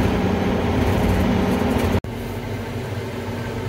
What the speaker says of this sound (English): Enjoy the tractor ride.